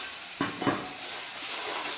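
Fennel powder and spices frying in oil in a pan, a soft steady sizzle with two quick stirring scrapes early on, faint and close.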